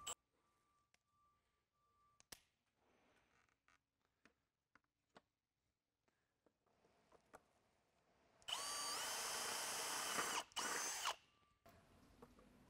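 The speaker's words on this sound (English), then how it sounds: "using a 3/8 drill bit, drill out the top" Scattered clicks and small handling taps, then a loud, steady whine of a power drill with a 3/8 bit boring through a top layer of plastic for a few seconds before stopping.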